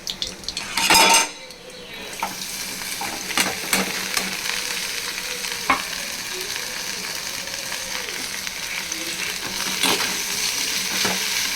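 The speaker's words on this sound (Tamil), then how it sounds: "இந்த மாதிரி வதக்கிக்கணும். ஸ்லோ ஃப்ளேமில் வச்சு வதக்கணும், மூடி போடக்கூடாது." Sliced okra sautéed over a slow flame in an uncovered pan for vendakkai poriyal, with steady soft sizzling and repeated scrapes and clinks of a spoon stirring against the pan, close and continuous, with no talking.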